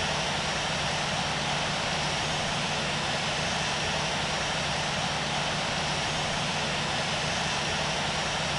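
An Air Asia Airbus A320 jet takes off at Sydney International Airport with a steady, broad roar of engine noise that holds at an even, fairly distant level throughout.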